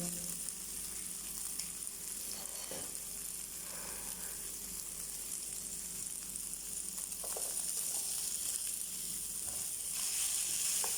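Onion frying in a pan for a quick breakfast dish, producing a continuous close hissing sizzle with faint scattered crackles and occasional stirring knocks, steady and moderately loud throughout with no talking.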